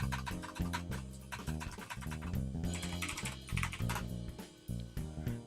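A terminal command is typed on a computer keyboard in quick, uneven bursts of keystrokes, heard close up, with no talking.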